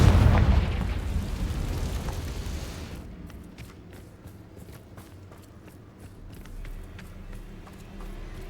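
A Confringo spell blast in the Hogwarts Legacy video game bursts out as a loud, near boom, then fades into a lower rumble with scattered small pops and impacts.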